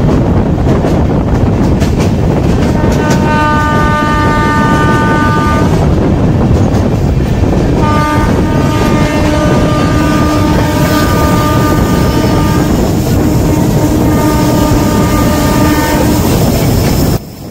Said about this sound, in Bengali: আমাদের ট্রেন এখন আজিমগঞ্জ সিটি রেল স্টেশন পৌঁছালো।